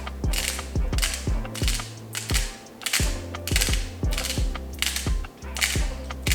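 A hand spice grinder is twisted over a vegan snack, giving a close, steady run of ratcheting clicks and grinding creaks in a regular rhythm.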